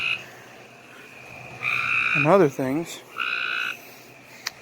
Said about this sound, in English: But I'm hearing some frogs calling